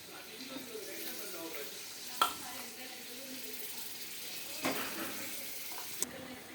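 Lemon-marinated chicken meat added to a hot pan with onion and green chilli, a soft, steady frying hiss with a few sharp clinks of utensils, while people talk quietly nearby.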